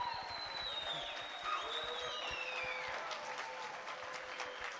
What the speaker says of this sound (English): can we just give one big, big round of applause for the shark and all the other